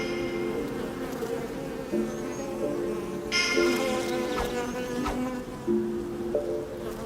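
A dense, steady hum of many bees buzzing close by near hives in Correns, France, with individual insects droning louder as they pass near.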